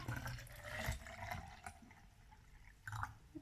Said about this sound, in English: fill up our jug with water